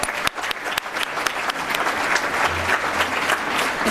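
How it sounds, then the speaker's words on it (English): At a scholar-athlete awards ceremony, an audience breaks into a big round of applause, a thick, continuous clatter of many hands with a few sharp, distinct claps standing out near the start. "Can we have one big round of applause for everybody?"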